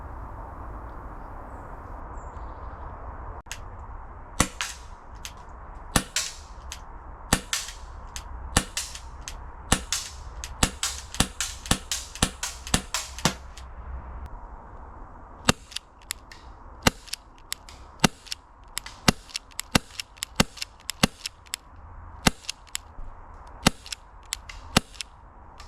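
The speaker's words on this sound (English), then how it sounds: "test the performance of this pistol" A Tokyo Marui LCP 2 gas airsoft pistol on green gas fires 0.2 gram BBs in dozens of sharp, close cracks, some in quick strings and others spaced apart.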